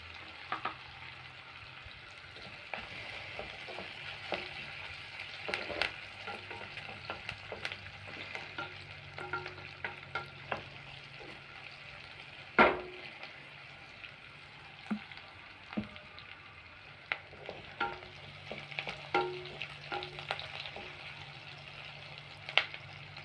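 Onions sautéing in a pan for vendakka puli kuzhambu, a soft steady sizzle broken by frequent clicks and scrapes of a spatula stirring, quiet and close with no talking.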